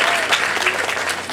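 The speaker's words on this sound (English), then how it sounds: "Give her a big round of applause." Audience at the L.A. Times Festival of Books applauding a performer: a brief, dense burst of many hands clapping, steady and fairly loud throughout.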